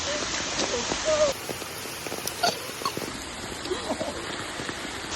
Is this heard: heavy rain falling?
yes